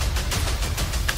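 Firecrackers crackle in a dense, continuous burst of sharp pops, loud and close, opening an intro sequence.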